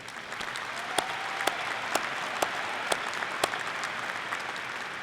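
Audience at a Thomas Nelson Community College commencement applauding staff, sustained clapping from a large crowd in a big hall, steady and moderately distant, with a few sharper claps standing out.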